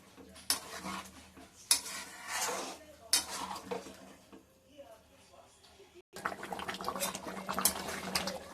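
Chicken curry in a pot with about three cups of water over low flame, a spoon scraping and clinking against the pot in irregular bursts, with quieter gaps and a soft bubbling background.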